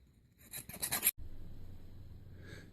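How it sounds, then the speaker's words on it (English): A half round file rasps across the edges of a silver coin ring in a short burst of quick, close scraping strokes, then stops, leaving faint background hum. "file these edges with a half round file, the round side on the inside and the flat side on the outside"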